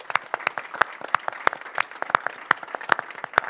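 Applause for a symposium's panelists: a small audience claps in a steady patter of sharp, distinct hand claps, close and alone without speech.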